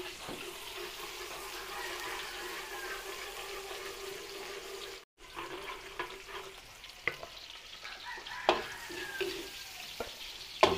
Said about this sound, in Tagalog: Gigisa tayo.